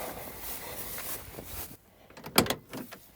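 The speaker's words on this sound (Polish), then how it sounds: "spójrzmy sobie na drzwi z drugiej strony, jak one się nam uchylą." A heavy door on a restored Lincoln Continental convertible opens with a soft rubbing and then one sharp, close latch clunk, followed by a few lighter knocks.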